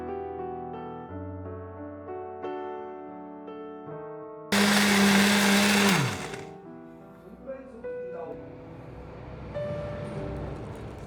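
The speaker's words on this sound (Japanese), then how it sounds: "これらをミキサーに入れてよく混ぜ合わせます。" A kitchen blender whirs loudly for a second or two as it purees ripe banana peels and orange peels, then winds down, with musical tones and other noise around it.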